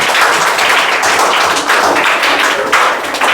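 Students clap in a classroom during a Hindi poetry test results session, a loud, dense patter of many hands that runs continuously at close range.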